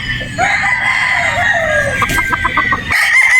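A Boston Roundhead brood stag gamefowl crows loudly nearby in one drawn-out call, followed by a rapid burst of clucks and a fresh crow starting at the end, with no talk.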